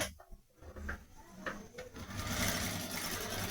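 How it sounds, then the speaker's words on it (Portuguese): Sewing machine stitching clear crystal plastic onto a fabric toothbrush case, a steady mechanical whir building after a few soft clicks and handling noises, close and continuous with no talk. "E vou na máquina para passar a costura."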